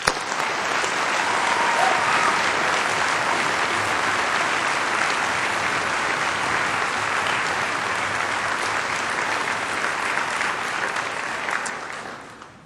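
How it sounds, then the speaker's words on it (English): Sustained applause from a large audience at a Dakota State University commencement ceremony, steady dense clapping that holds for about twelve seconds before tapering off at the end. "join me in applauding your success"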